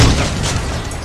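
Heavy cannon blasts from armored vehicles in the combat game Crossout, fired at close range, with dense booming low rumble sustained and loud throughout the short burst.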